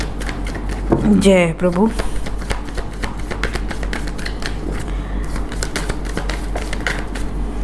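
Tarot cards shuffled and drawn by hand, a run of rapid riffling flicks and dense card clicks close up, with a person speaking briefly over the start.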